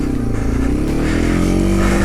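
A Yamaha TW200 motorcycle with fat tires is ridden through a foot of snow, its single-cylinder engine thumping in a loud, close, steady drone whose pitch rises slightly as it accelerates, with no voices.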